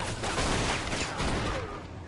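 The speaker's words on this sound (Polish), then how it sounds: "To był piękny strzał, ten ostatni oczywiście." Gunfire from a Mafia II shootout, a dense, continuous fusillade of close, loud shots that rolls on without a pause across the whole clip.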